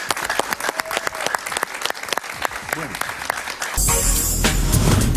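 Studio audience on a Colombian political talk show claps for a senator, dense sustained applause that gives way to loud music or cheering near the end.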